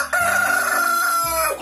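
A red rooster with a blue tail crows once at close range, a loud sustained call lasting over a second with a falling final note, heard alone.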